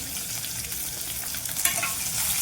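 Finely chopped medium onion sautéing in oil for a fenugreek-leaf dish: a close, even sizzle with soft stirring, continuous and alone without any talking.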